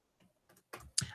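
A few quick keystrokes on a computer keyboard, faint, close clicks that grow slightly louder over about a second, alone without talk.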